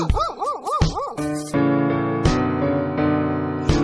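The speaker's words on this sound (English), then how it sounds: "There was a farmer had a dog and Bingo was his name" A cartoon farmer's dog in an animated English nursery rhyme gives four quick, bouncy yips, then sustained sung music takes over.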